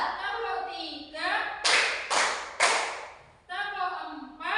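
A group of children claps three times in unison during a classroom rhythm game, sharp and close, with an adult voice talking before and after.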